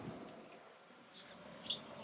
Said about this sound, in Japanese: 他のスズメの声もするね